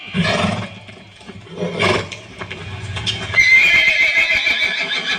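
A horse at a crowded temple festival gives loud neighs and whinnies up close, over a busy background of crowd noise and commotion.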